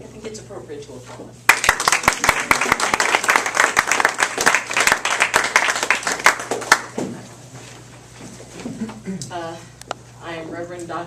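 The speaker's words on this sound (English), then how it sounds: "I think it's appropriate to applaud." A congregation breaks into loud, sustained applause at an ordination. The dense clapping starts abruptly after a quiet opening, runs for about five seconds and then fades out as a voice begins speaking.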